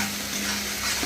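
Tomato curry frying in a pan gives off a steady, dense sizzle with a low hum underneath, continuous and close.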